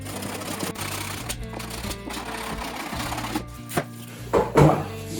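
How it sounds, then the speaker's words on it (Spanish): Sandpaper wrapped on a wooden block rubs over a motorcycle fairing being prepared for polyurethane filler, a close, steady scratchy rasp with short repeated strokes and brief pauses near the end. "El taco de madera podemos usarlo para ayudarnos a lijar."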